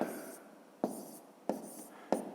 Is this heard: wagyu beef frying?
no